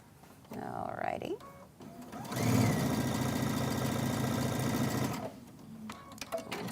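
A domestic sewing machine stitches a pinwheel quilt block in a steady, fast mechanical whir for about three seconds, with quiet talk and small handling noises before and after the run.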